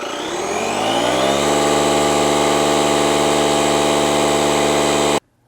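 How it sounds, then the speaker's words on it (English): An air compressor pumps up a bicycle tire through a valve adapter, its motor rising quickly to a loud, steady hum close by with no talk, then cutting off abruptly. "thread the head of your air compressor onto the end of that adapter"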